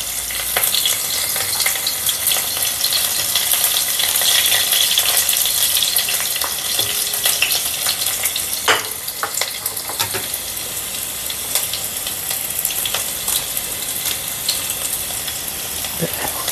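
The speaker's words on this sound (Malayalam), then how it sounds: "ഉള്ളി വറ്റൽമുളക് മുറിച്ചതും കൂടി ഇട്ട് കൊടുക്കാം." Chopped onion and dried red chillies frying in hot oil for a Kerala Onam kootu curry, a steady dense sizzle and crackle running throughout with occasional stirring clinks.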